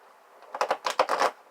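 A quick riffle of cards being shuffled, a short burst of crisp, rapid flutters close by.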